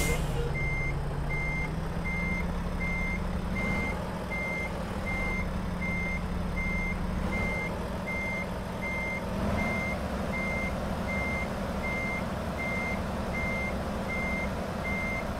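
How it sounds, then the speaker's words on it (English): A garbage truck in American Truck Simulator backs up with steady, evenly spaced reversing beeps that repeat under a constant engine rumble. "Is that a trash truck?"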